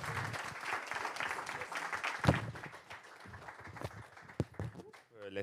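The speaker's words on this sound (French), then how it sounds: "Béatrice, on peut l'applaudir, s'il vous plaît." Scattered applause from a small audience, uneven claps rising and fading, with voices talking over it toward the end.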